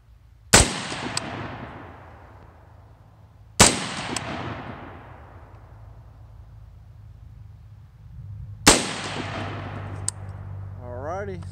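Three loud, sharp rifle shots fired outdoors at a 100-yard field range from a rifle fitted with a Holosun red dot sight, spaced several seconds apart, each followed by a long rolling echo.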